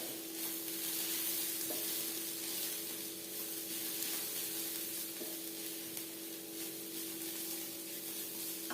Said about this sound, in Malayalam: ചിക്കൻ മസാലയുടെ പൊടി പിന്നെ നമ്മുടെ ഗരം മസാല ഇതെല്ലാം നന്നായി ഇളക്കി ചേർക്കും